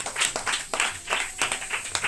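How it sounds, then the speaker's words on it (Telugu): Loud, steady hand clapping from a group at a birthday celebration, close and rhythmic, with sharp repeated claps running through the whole stretch. "గట్టిగా చప్పట్లు."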